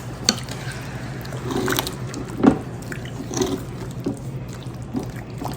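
Water poured into a roast beef pan to loosen the browned bits for gravy, soft sloshing and squishy liquid sounds with a few splashes and drips, close and moderate in level.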